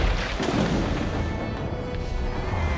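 Ship cannon fire at sea in Assassin's Creed Black Flag, a deep booming blast with rumbling low-end decay over game ambience, loud and close, with no talk in this moment.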